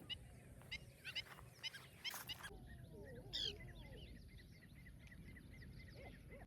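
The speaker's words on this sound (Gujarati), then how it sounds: "અને પક્ષીઓ તો કેવા બોલે છે." Birds calling at dawn on an island in the middle of water, with goose-like honks and bursts of chirping and chatter, moderately distant and fairly faint.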